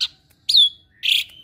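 Three short, loud calls from a close Asian pied starling (jalak suren): a brief chirp, then a sharp downward-sliding whistle, then a harsh buzzy note, separated by quiet gaps with no talking.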